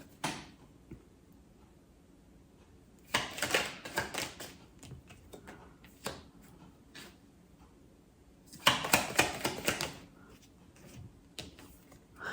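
Tarot cards pulled and shuffled from a deck in two brisk bursts of soft papery flicking and slapping, close and fairly quiet, separated by scattered small taps and rustles, with no talking.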